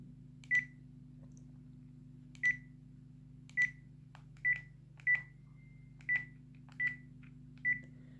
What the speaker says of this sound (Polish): Dźwięk przycisków